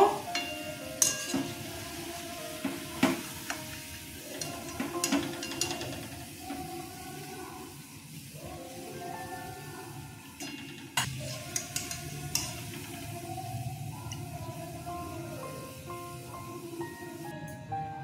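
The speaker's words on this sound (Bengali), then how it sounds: "দেখুন পকোড়াগুলো কেমন ফুলেছে, এগুলো ভাজা হয়ে গেছে, এখন তুলে নেব।" Mango pakoras made from ripe Himsagar mangoes sizzle steadily in hot oil, a continuous bubbling hiss broken by clinks and scrapes of a spoon against the pan.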